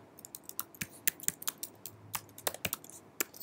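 Rapid, uneven clicks of fingers typing a script on a computer keyboard, close and crisp with short pauses between bursts of keystrokes, no voices.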